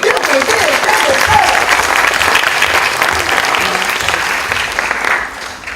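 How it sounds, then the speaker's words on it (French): Sustained audience applause at a staged variety show in Lussac, a dense steady wash of clapping lasting throughout and fading slightly at the end, with faint voices mixed in. "On vous applaudit quand même."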